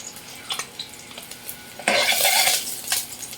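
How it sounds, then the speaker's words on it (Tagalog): Onions sautéing in a pan, starting with light scraping and stirring of a utensil against the cookware, then a loud burst of sizzling frying that holds for about a second and gradually fades. "Magigisa tayo ng sibuyas."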